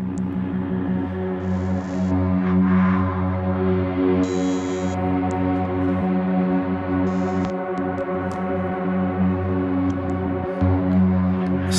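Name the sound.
pitch-stretched drone-like sound effect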